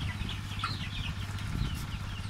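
Rhode Island Red chickens clucking softly in a backyard, short low clucks repeating in a loose rhythm over a quiet background, with faint higher bird calls.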